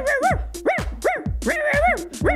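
A cartoon dog in the video game Toca Life gives a quick run of bright, yippy barks, about six or seven in a bouncy rhythm, close and clear with no talking.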